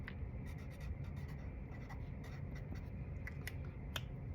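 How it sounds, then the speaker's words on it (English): A name being written onto a papier-mâché ice cream craft, a quiet steady scratch of a pen or marker over paper with small ticks, close and alone for a few seconds. "Write your name."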